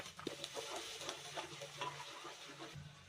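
Onions are added to a frying masala with ginger-chilli paste and curry leaves for pav bhaji. A low sizzle with soft, intermittent stirring scrapes stays fairly faint and steady, with no one talking.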